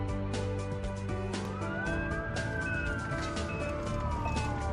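Emergency vehicle siren near a hospital cardiac center, wailing and rising then falling in pitch over a steady loud traffic background, with rapid pulsing tones layered on top and no voices.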